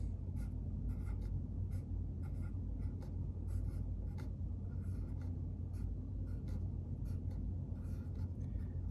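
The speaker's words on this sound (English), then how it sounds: "in the middle here, you're gonna write nice and neat, all capital letters, please." Pencil scratches across drafting paper as title lettering is printed by hand in capitals, forming close, rhythmic strokes in short bursts over a low, steady background rumble.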